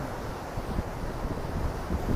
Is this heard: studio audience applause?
no